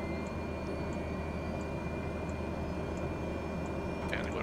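Aircraft jet engine running steadily just after start, a continuous broadband roar with a faint high whine, close and even throughout with no talk.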